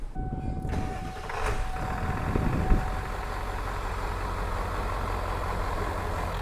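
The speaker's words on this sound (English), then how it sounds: "It's time to start it and see if it's got a cool intake noise." A truck fitted with a KC turbo cranks and fires up, then settles into a steady, loud, rumbling idle with a faint whine, heard close by and without voices.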